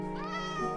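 A cat meows once in the video game Minecraft, a single drawn-out, clear, close meow with a rising and falling tone.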